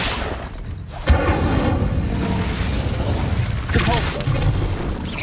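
Fire spell cast in Hogwarts Legacy on PS5 Pro: a loud, sustained burst of roaring game effects with a sharp thump near the start and another surge later, under continuous dense combat noise.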